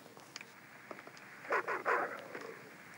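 Dog barking in the video game SurvivalCraft, a few short faint barks and yips clustered mid-clip over quiet ambience, no talking.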